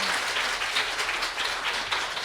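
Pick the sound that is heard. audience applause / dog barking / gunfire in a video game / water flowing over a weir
audience applause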